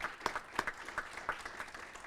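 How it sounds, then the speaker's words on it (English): Scattered handclaps from a small gathering at a county budget update meeting: a sparse, uneven patter of individual claps, faint and fairly distant, with no talking over it. "Fairhaven, our host, give them a round of applause."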